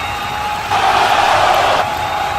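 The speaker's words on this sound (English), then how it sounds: "And the crowd are just going absolutely crazy." Fans at a wrestling bout roar into a loud, sustained cheer that swells suddenly over a steady background din, holds for about a second, then eases back.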